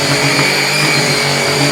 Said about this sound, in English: To use the Pure One for carpet cleaning, you simply connect the extension wand, connect the floor tool, and pull the trigger